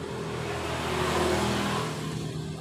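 A worn Honda GL Pro Neo Tech motorcycle engine runs steadily with a rough, rattling mechanical clatter from its worn parts, a continuous close idle-to-rev drone with no talk over it.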